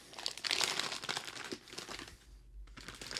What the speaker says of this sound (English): I'm turning the wrapping paper inside out